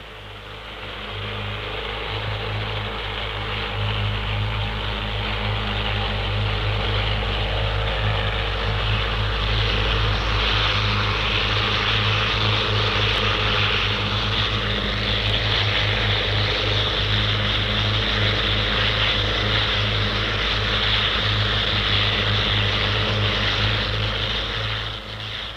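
Eight Army Skeeter helicopters fly a close-formation display at the Farnborough airshow, a loud, steady engine and rotor drone that holds without a break for the whole stretch.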